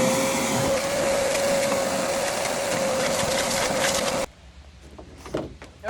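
A vacuum cleaner runs loud and steady, clearing debris from a Sprinter van build where a propane locker and Dometic oven are being installed, then cuts off abruptly, leaving faint knocks and handling noises.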